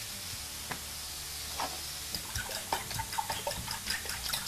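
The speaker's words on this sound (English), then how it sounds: "I'm just going to crack another 2 in and give those a good whisk." Eggs being whisked in a bowl with ground black pepper nearby, a quiet run of light, irregular clicking taps that grow busier toward the end, close and soft with no talking.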